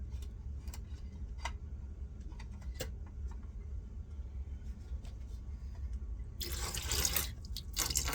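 Water being poured into a dye mix for coloring yarn hanks, a brief splashing burst near the end over a low steady background rumble, with faint drips and taps earlier.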